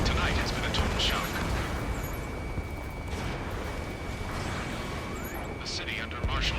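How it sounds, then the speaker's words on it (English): Ace Combat 7 battle noise fills a city under martial law, with a continuous rumbling roar of jets, scattered bursts and crackles of gunfire, and a thin high whine running beneath. "Gunfire and the roar of jets echoing through the streets."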